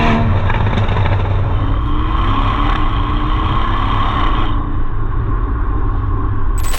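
A Porsche 718 Boxster GTS with a turbocharged flat-four engine rumbles loud and close, rising and falling through revs in a steady low drone, with the engine note easing slightly toward the end and no one speaking.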